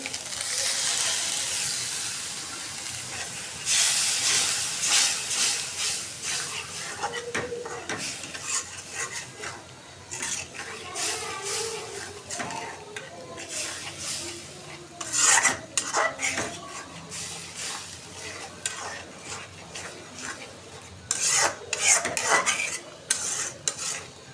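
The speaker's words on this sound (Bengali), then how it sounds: "সব মশলা এখন পানি দিয়ে কষাই নেবো ভালোভাবে" Spice paste sizzling in a pan with water added while a spoon scrapes and stirs repeatedly, hissing bursts mixing with clinks of metal.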